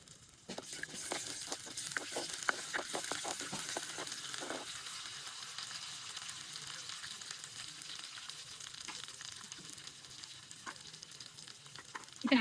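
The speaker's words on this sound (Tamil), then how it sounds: "வெந்தயம் மிளகு குணத்தையும் தாளிக்க போகிறோம்." Steady crackling sizzle of fenugreek, pepper, cinnamon and bay leaf frying in hot oil, with a burst of sharp pops early on, continuous throughout and close.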